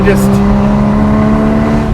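A Porsche 981 Boxster Spyder engine roars with its exhaust valves open, loud and close throughout. The sound is a steady, sustained drone with a brief higher rasp at the start.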